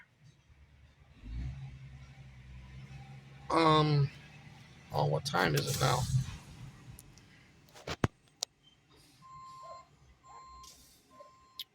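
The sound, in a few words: Sterling truck engine and reversing beeps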